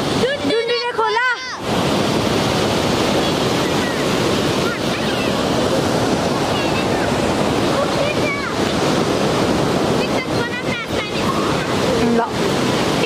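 Rushing water of the Dundure river fills the scene with a steady, loud broadband roar, with wind buffeting the microphone and brief voices and chatter breaking in near the start and intermittently throughout.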